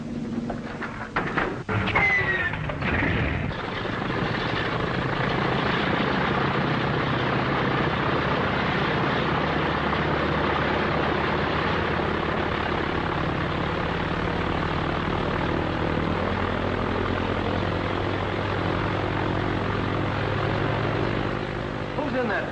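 A plane grounded for repairs roars through a steady, continuous engine drone lasting over twenty seconds after a brief burst of clatter at the start, loud and unbroken with a whining tone over the rumble.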